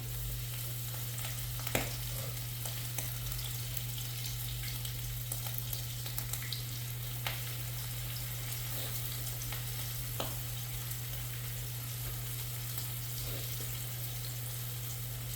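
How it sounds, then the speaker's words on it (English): Pork chops frying in a pan for smothered pork chops in onion gravy: a steady, close, dense sizzle with occasional sharper pops and crackles, over a constant low hum. "go ahead and drop these pork chops in. Take them and lay them away from you."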